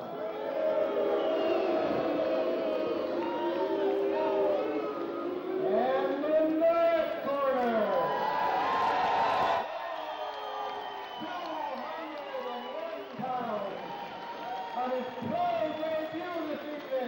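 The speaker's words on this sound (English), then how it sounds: "the crowd showing their delight at another good local prospect" A crowd at a professional boxing event cheers and whoops for a local prospect, a continuous roar with rising whistles and shouts under steady talk from an announcer, swelling and then easing partway through.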